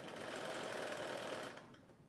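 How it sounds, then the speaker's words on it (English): A sewing machine stitches fabric pieces together at a 5/8 inch seam, a close, steady mechanical whir that runs continuously and then stops abruptly near the end. "Again, I'm sewing this together"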